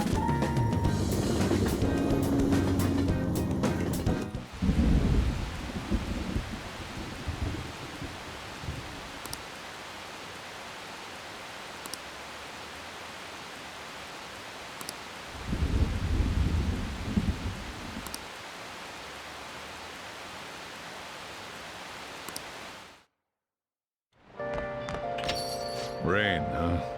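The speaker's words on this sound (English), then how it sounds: "Rain, huh?" Rain and thunder in the video game Persona 5 Royal: steady rainfall hisses throughout while low thunder rumbles swell twice, then the ambience briefly cuts out before music returns.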